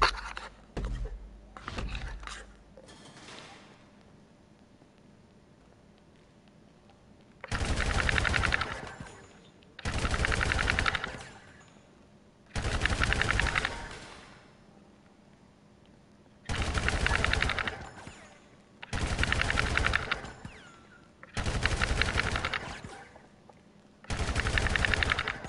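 Rifle fire at a shooting range in Grand Theft Auto 5: a few quick shots at the start, then seven loud sustained automatic bursts of a few seconds each, separated by quiet gaps.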